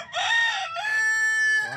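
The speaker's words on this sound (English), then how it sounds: "That's a good sized rooster." A good-sized adult rooster crows once up close, a loud two-part cock-a-doodle-doo with a brief break, rising and then sustained.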